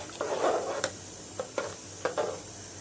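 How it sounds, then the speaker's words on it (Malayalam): Chicken kurma being stirred in a pan after pepper powder is added: a soft sizzle under several distinct spoon scrapes, spaced apart and fairly close. "നമ്മൾ കുറച്ച് കുരുമുളകിന്റെ പൊടിയിട്ട് എടുത്തിട്ടുണ്ട് നന്നാക്കി ഇളക്കി കൊടുക്കാം"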